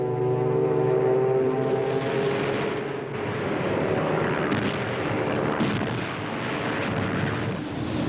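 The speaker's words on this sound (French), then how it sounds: "Les vieux coucous attaquent bravement et une de leurs torpilles bloque le gouvernail du Bismarck." Old propeller aircraft attack the battleship Bismarck with torpedoes amid a dense, loud din of engine drone, heavy gunfire and blasts rumbling continuously, with a steady tonal engine hum fading early on.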